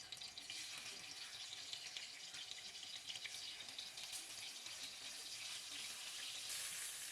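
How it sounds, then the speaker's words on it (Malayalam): Marinated chicken sizzles in hot oil in a pan during Kerala catering-style chicken masala cooking, a steady, dense crackling hiss that holds evenly throughout with no voices. "അതിനകത്തോട്ട് നമ്മൾ മാരിനേറ്റ് ചെയ്ത് വെച്ച ചിക്കൻ ഇട്ട് ഫ്രൈ ചെയ്തെടുക്കാം"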